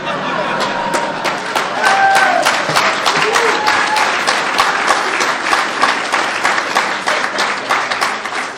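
An audience at a comedy-style show breaks into loud, sustained applause mixed with cheering, with sharp individual claps standing out near the front of the room as the clapping rolls on for several seconds.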